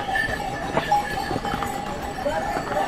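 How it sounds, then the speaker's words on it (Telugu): Horses walking along the Kedarnath pilgrimage trail, hooves clip-clopping in an uneven rhythm amid steady outdoor background noise. "గుర్రాలు చూడండి ఎలా ఉన్నాయో"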